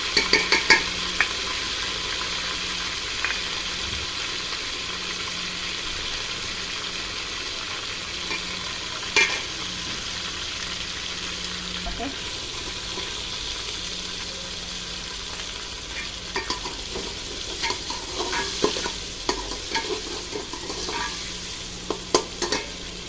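Onions fry with ginger garlic paste in ghee for a Punjabi chicken pulao, giving a steady close sizzle throughout, broken by scraping stirs and occasional utensil clinks against the pot.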